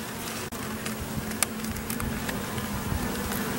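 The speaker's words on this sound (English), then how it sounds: "That is a lot of bees." Bees buzz steadily around a crowded top bar hive, a continuous close hum with scattered faint clicks and knocks.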